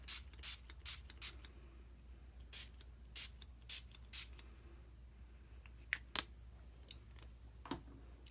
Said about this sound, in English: take my water and spray it all over.